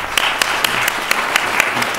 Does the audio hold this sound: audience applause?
yes